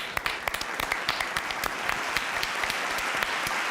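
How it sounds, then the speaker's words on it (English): Applause greets a football substitution in a Valladolid versus Barcelona La Liga match, with many distinct, crisp claps close by, irregular in rhythm, over a continuous clapping wash. "Round of applause for Gavi"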